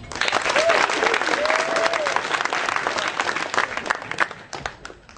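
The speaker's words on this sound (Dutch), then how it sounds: "Graag een applaus voor de jury." An audience applauds the jury at a Dutch national juggling championship prize ceremony, with sustained crowd clapping, voices and a cheer mixed in, tapering off near the end.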